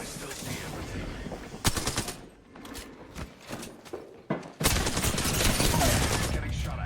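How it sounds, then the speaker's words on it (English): Gunfire erupts in loud, sharp shots and rapid bursts, some clustered like automatic fire, with brief lulls between volleys and a few voices faintly mixed in. "Getting shot at."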